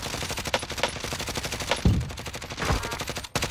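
Rapid automatic gunfire in the Call of Duty Warzone battle royale game, dense repeating bursts continuing throughout with a few heavier shots standing out, loud and close.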